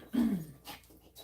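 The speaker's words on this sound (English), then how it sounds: "All right, my dog wants to go out." A dog whines to go outside, a single close, high, drawn-out whimper followed by fainter soft noises, with no talking.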